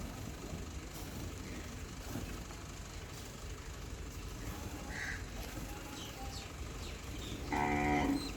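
A buffalo on a farm gives a short, fairly close moo near the end, after a long stretch of faint outdoor background noise with a low rumble.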